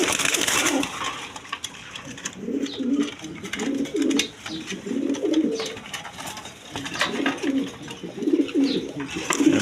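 Pigeons of various breeds, kept for sale with their eggs and chicks, coo in overlapping low bursts nearby, with restless scuffling and small clattering sounds between the calls.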